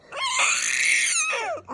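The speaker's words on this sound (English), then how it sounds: "You turn 3 months and you start screaming?" A three-month-old baby girl lets out one long, loud, high-pitched scream up close, then a shorter wavering cry trailing off at the end.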